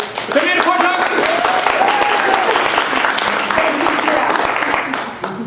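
A seminar audience of court reporters applauds at the start of a session, loud sustained clapping with voices and chatter running underneath.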